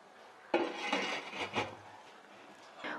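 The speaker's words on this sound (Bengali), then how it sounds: "এবার ঢেকে দিচ্ছি ঢাকনাটা দিয়ে।" A metal lid set down over a cake pot on a stand for stovetop baking, giving a sharp clank followed by a few lighter knocks and rattles, close and moderately loud.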